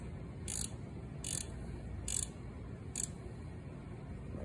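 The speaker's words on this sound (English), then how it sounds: "it's nice when you have one of these little speed wrenches" A small speed wrench tightens a bolt on a Honda Shadow motorcycle headlight, giving four short, crisp ratcheting clicks at an even pace, close up over a low steady background hum, with no talking.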